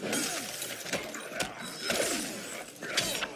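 Glassy shatter effects from the Injustice 2 fighting game at a tournament match, bright crashing breaks recurring about every second over a busy, continuous mix of game effects.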